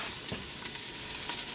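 Vegetables sizzle steadily in heated olive oil inside a Ninja Foodi for Philly cheesesteak filling, a close, continuous crackling hiss with a few brief stirring clatters and no talking.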